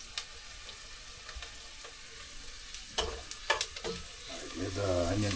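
Onion frying in a pan for a freshwater mussel curry, a constant hiss and crackle with a few sharper spits and stirring clatters, ending with a low hum alongside the sizzle.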